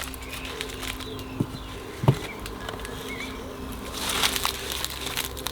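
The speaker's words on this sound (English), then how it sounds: "let's look inside the hives." Honey bees in an opened beehive give a faint, steady hum, with a few soft knocks and a brief burst of higher buzzing near the end.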